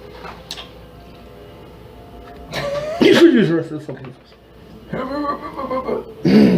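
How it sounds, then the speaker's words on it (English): A person coughs a couple of times nearby amid casual talking, with a few soft ticking clicks in the background. "Stop coughing."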